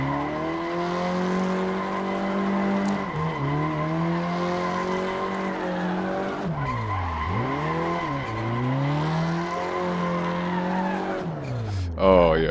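A Mitsubishi Starion rally coupe slides with a sustained tire squeal over steady engine drone that keeps swooping up and down in pitch, loud and close throughout, ending in a brief louder burst.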